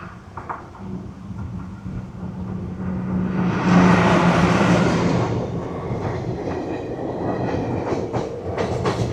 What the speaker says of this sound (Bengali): Malda town Azimganj passenger.